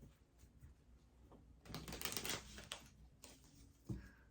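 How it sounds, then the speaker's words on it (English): Soft papery riffling and clicking of tarot cards being shuffled, quiet and close, with a louder flurry in the middle and a sharp tap near the end. "Let me do one more shuffle."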